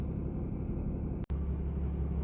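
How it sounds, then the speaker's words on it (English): Steady low rumble of engines and traffic fills a truck stop parking lot in cool weather, continuous and fairly loud, with one brief dropout. "This is the parking lot of the truck stop."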